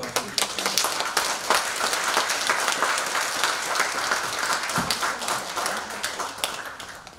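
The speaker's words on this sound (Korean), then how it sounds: "다시 한번 귀한 강연 해주신 손찬훈 교수님께 큰 박수 부탁드립니다." An audience claps steadily after a lecture on the Epic of Gilgamesh, a dense patter of many hands that holds at an even level and fades slightly at the end.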